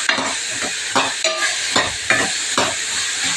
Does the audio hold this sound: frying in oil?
yes